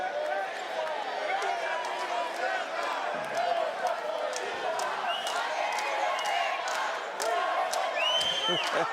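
A Puerto Rican crowd at a boxing match keeps up a dense, continuous roar of cheering and shouting that fills the arena, with whistles and yells rising and falling.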